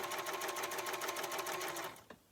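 A White Lock serger sewing machine runs at a fast steady whir while drawing out a thread tail, close and loud, then stops abruptly near the end.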